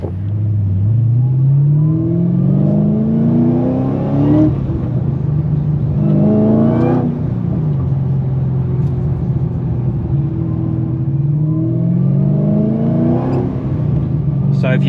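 Supercharged 6.2 litre V8 in an HSV VF GTS heard from inside the cabin, loud engine rumble climbing through gears in repeated rising sweeps with shift breaks between.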